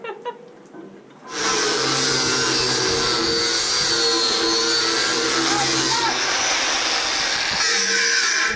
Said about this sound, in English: We'll just put the 9-inch blade on the 5-inch grinder.